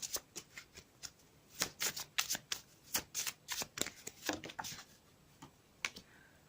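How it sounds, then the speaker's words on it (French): Oracle cards are shuffled by hand, making a close, quiet run of crisp riffling slaps and flicks in an irregular rhythm. "Je vais battre les cartes."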